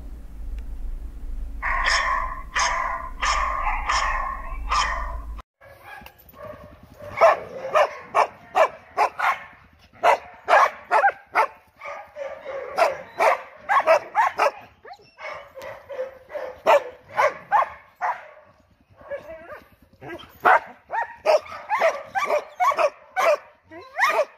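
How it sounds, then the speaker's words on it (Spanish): A dog barks repeatedly in quick bursts, loud and close, with short pauses between volleys and a low hum at the start. "El perro."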